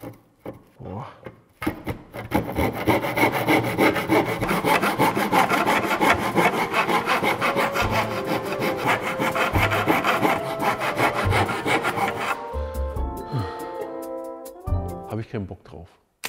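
Continuous rasping of a hand saw drawn back and forth through wood for many seconds, close and steady, ending in a few scrapes and knocks.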